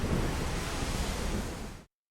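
Sea waves wash in with a steady breeze in a dense, continuous rush of surf and wind that cuts off abruptly near the end, with no voices.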